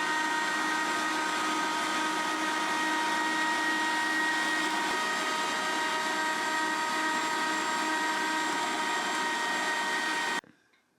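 A food processor mincing a kebab koobideh meat mixture gives a loud, steady whirring motor drone that holds constant for about ten seconds and then cuts off abruptly.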